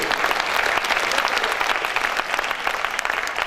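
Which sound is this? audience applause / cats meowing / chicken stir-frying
audience applause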